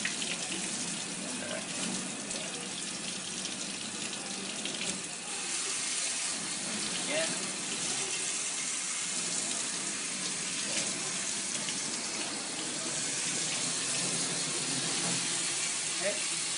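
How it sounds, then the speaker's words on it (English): Tap water runs steadily over hands being rinsed from fingertips to elbows at a sink, a continuous close splashing rush with no pause. "Just turn on the water."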